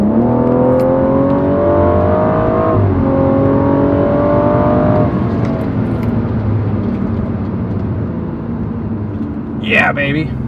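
A BMW M135i xDrive with a turbocharged six-cylinder engine accelerates hard, its loud revs climbing in two rising pulls with a brief shift break between them before settling into a steady drone. A short sharp noise comes near the end.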